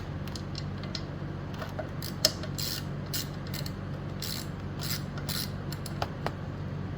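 A socket wrench ratchets on a 2003 Honda Elite 80 scooter, giving sparse, irregular clicks and ticks over a low steady hum, close and fairly quiet.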